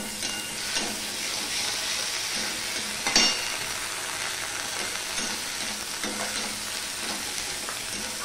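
Onions, ginger paste and a small tomato frying in a pan for an ash gourd dish, stirred with repeated scraping strokes over a continuous close sizzle, no voices.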